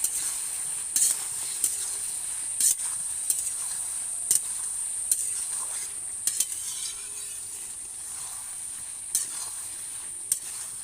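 Papaya pieces stir-fried in a pan give a steady high hiss of frying with a series of sharp scraping knocks from a spoon against the pan, spaced irregularly and close by.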